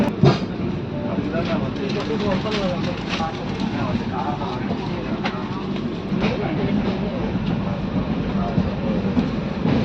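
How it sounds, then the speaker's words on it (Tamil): An express passenger train, Chennai to Coimbatore Shatabdi, rumbles and rattles steadily as it departs Chennai Central, with continuous wheel noise and muffled voices inside the carriage. "இப்போ கரெக்டாக செவன் டென்னுக்கு ட்ரெயின் ஸ்டார்ட் ஆகிடுச்சு"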